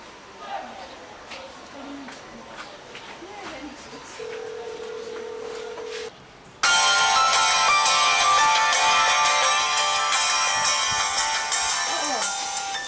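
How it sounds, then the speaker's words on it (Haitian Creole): A mobile phone sounds a short steady tone, and then a loud melodic ringtone bursts in and keeps playing continuously over faint background voices. "votre téléphone a sonné"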